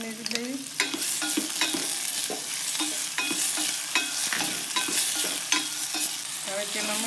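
Onions, tomatoes, ginger-garlic paste and spices sizzle and fry in a pan for sev usal, with steady stirring scrapes and clinks of a spoon against the metal throughout, close and fairly loud.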